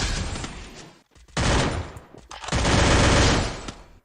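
Rapid gunfire in a multiplayer shooter video game: two dense, loud bursts of automatic fire separated by a brief pause, close and harsh, with no talking.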